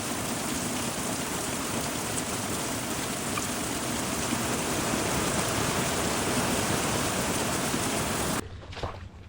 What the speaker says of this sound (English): it has been raining profusely out here in Alaska